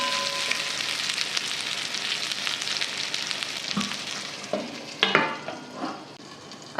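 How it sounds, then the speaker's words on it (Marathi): Green eggplant pieces fry in a pan with a constant hissing sizzle, broken toward the end by a few louder clanks and scrapes of a spatula stirring, no talking heard. "1-2 मिनिट झाकण ठेवू, म्हणजे वांग चांगलं परतलं जाईल अजून"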